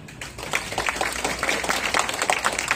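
An audience at a meeting of retired veterans' representatives claps together in a sustained burst of applause, dense and steady, heard from within the room.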